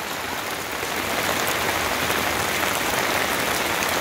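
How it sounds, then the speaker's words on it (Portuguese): Heavy rain pours down during flooding in Joaquim Gomes, Alagoas, Brazil, a dense, continuous hiss of drops beating on surfaces that holds steady and loud throughout. "Muita chuva mesmo pessoal, veja só."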